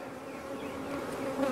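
Honey bees from an aggressive hive buzz steadily and close during a hive inspection, a continuous droning hum that grows slightly louder toward the end, with no talk.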